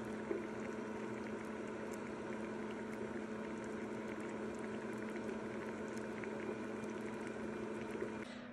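Lipstick oils melting in a pot on heat, giving a steady, faint, even bubbling and simmering hiss with tiny pops throughout and no talking.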